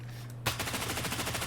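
Full-auto rifle fire from the shooter STALKER 2: a hard opening shot followed by a loud, steady rapid-fire burst of evenly spaced reports, close and alone with no voices.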